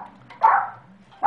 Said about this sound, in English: you'll have to excuse my puppy. Apparently he hears somebody at the door